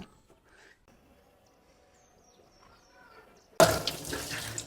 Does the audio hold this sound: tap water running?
yes